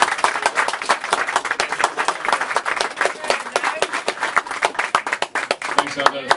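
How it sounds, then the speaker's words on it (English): A warm audience at a Donegal Good Food Taverns launch in Ardara claps steadily throughout, a dense, continuous patter of many hands with no pause. "big round of applause for me"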